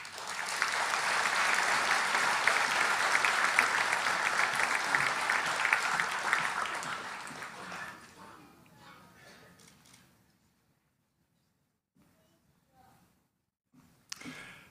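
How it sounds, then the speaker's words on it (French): Audience applause for master's graduates at a 2018 university convocation ceremony, loud sustained clapping from a large crowd that fades out over several seconds, followed by near silence and a few faint stirrings. "Mesdames, Messieurs, applaudissons chaleureusement les diplômés de la maîtrise."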